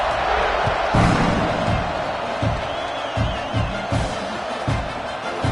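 Stadium crowd in the Madden football video game buzzes in a dense, steady roar, with scattered thuds and swells of cheering throughout.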